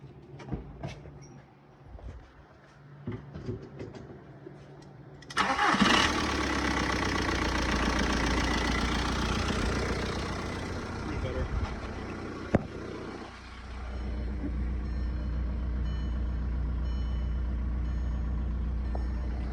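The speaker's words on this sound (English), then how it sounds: "So we're going to start it up now and see how it sounds with the timing all set." A Mk4 Jetta TDI diesel engine with freshly set timing cranks after a few quiet clicks, catches abruptly and settles into a loud, steady, close idle with a low rumbling clatter that holds to the end.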